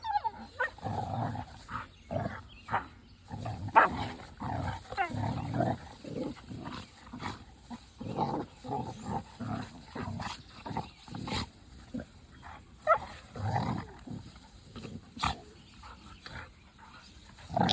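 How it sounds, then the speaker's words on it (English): Dogs fight on a farm homestead, with repeated snarling growls, roars and sharp barks in uneven bursts. They sound close and moderately loud throughout. "dog fight."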